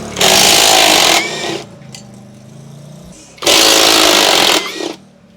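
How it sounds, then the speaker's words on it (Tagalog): A pneumatic impact wrench removes parts from a Honda Click 125i scooter during a BOM and Hydra install, firing in two loud, harsh bursts of about a second each with a quieter gap between them. "gagamitan na natin siya ng impact para madaling tanggalin"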